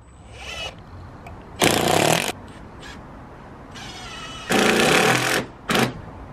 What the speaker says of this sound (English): We are now bolting down our wall plates.